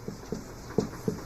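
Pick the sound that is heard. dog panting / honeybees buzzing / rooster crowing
dog panting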